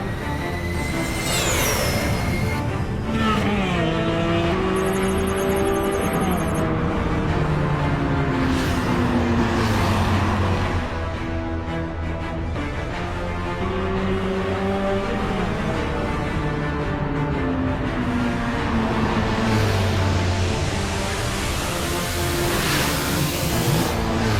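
A cartoon motorbike roars through a tunnel, its engine whine rising and falling in sweeping pitch glides over a steady loud rumble, with whooshing, echoing effects throughout.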